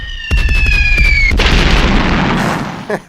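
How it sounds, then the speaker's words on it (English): Bomb and cannon sound effects played during a livestream: a loud booming blast with a descending whistle leading into a sustained rumbling explosion, heavy and close, fading near the end. "I got sound effects for bombs."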